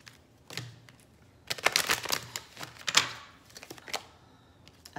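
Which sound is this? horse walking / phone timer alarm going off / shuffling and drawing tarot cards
shuffling and drawing tarot cards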